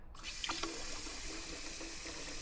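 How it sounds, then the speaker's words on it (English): A van's sink faucet runs water in a steady, close rush, with no pump running and no voices. "the water is coming straight from the faucet now"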